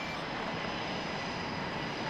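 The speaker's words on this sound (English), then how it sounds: "If it's a big plane, it might be a troop transport. Cargo, yeah. Passenger plane." Steady, even roar of a large passenger plane flying overhead in the military game Arma 3, a continuous broadband engine drone with no breaks and no voices.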